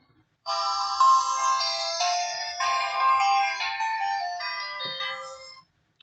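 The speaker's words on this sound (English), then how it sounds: "Battery, power on, and the phone is working." An Itel it2163 feature phone plays its startup tone after being powered on following a repair: a clear melodic jingle of several seconds, close and loud, cutting off abruptly.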